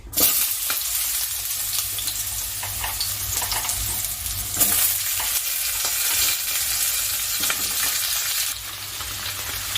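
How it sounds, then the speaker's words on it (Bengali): Pieces of pointed gourd (potol) fry in hot oil, a dense, loud, continuous sizzle heard up close, swelling slightly at moments as the pan is stirred. "সবার প্রথমে আমি পটলগুলোকে ভেজে নিচ্ছি"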